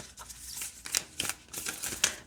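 A deck of 80 crystal grid tarot cards, an unusual non-rectangular shape, being split and shuffled by hand: soft papery riffles and sharp card snaps in a few quick bursts, close and fairly quiet.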